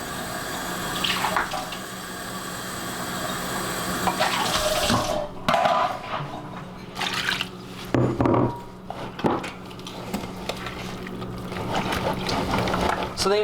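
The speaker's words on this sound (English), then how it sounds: "so we'll add 1 more cup of water." A cup of water pours steadily into thick protein waffle batter for about five seconds, followed by softer splashing and stirring sounds close by.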